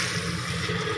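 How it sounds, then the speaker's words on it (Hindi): Water pours steadily into a pressure cooker holding ground tomato and green chili, a continuous close splashing and gurgling over about a second with no talking. "अभी थोड़ा सा इसमें पानी डालेंगे"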